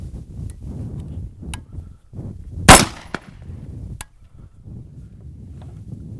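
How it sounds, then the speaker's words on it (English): A single firearm test shot goes off through an open barrel with no compensator fitted: one loud, sharp crack midway, followed by a short ringing decay over steady background noise. "Test shot number 3, open barrel."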